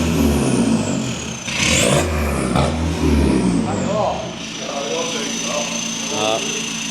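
A Mk3 Volkswagen Scirocco TDI diesel with a full straight-pipe exhaust revs loudly and close in a few repeated blips, each rising and then settling back to a rough idle, with people talking over it.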